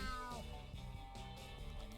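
A short cartoonish cat meow rises over a busy, steady backdrop of game music in SpongeBob SquarePants: Battle for Bikini Bottom.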